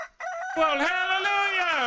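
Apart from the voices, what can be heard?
roosters crowing outside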